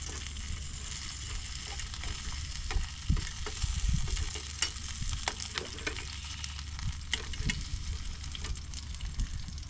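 Steak sizzling and frying in a metal mess kit pan, seasoned with salt and pepper, a steady close crackle with a few louder pops and stirring scrapes, no talk.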